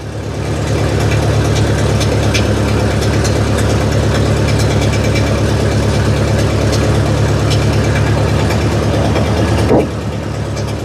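A Massey Ferguson TO30 tractor engine runs steadily at close range with a loud, even low rumble and a chugging idle, then dips and roughens briefly near the end as if stumbling.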